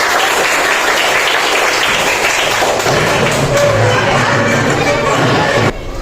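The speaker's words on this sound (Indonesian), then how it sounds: "Oke, tepuk tangan." A sixth-grade classroom full of pupils claps together in sustained, dense applause for several seconds, then it stops abruptly near the end.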